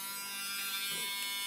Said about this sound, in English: Now, if you are lucky enough to have a Dremel tool,